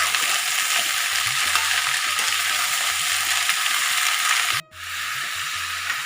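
Peas and spring onions sizzle and fry steadily in a hot pan, a loud close hiss with faint stirring knocks, cut briefly near the end before the frying resumes.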